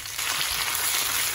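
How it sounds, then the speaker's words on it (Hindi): Onions frying in a pan give a steady, bright sizzle like light rain, close and continuous with no talking. "इसमें हम ऑनियन ऐड कर देंगे. 1 से 2 मिनट तक फ्राई करेंगे."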